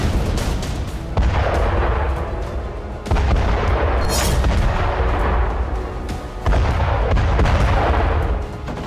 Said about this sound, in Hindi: यूक्रेन के टैंक से एक गोला चला